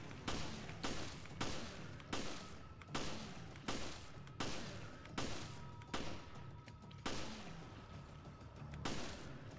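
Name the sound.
gunfire in video game Resident Evil HD Remastered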